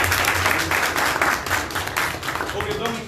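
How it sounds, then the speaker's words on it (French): An audience applauding at the first general assembly of a supporters' club in Mali, a loud wash of crowd clapping with a voice talking over it throughout. "qu'on applaudisse très très fort."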